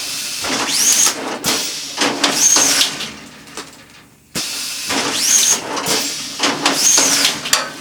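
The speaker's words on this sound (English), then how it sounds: "Now we can also then turn a compactor on." A machine's compactor unit runs in repeated cycles of airy hissing and whooshing, each cycle swelling and fading, with one brief pause before the cycling resumes close by.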